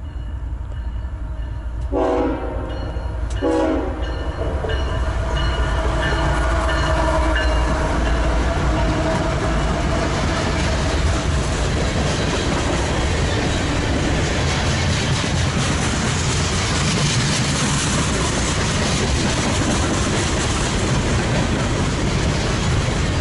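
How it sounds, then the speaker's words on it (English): Westbound freight train of eight cars hauled by two General Electric diesel locomotives in West Trenton along the Delaware River, opening with two short horn blasts, then a loud steady rumble of engines and rolling wheels passing close. "A westbound freight with only 8 cars is behind 2 diesels from General Electric."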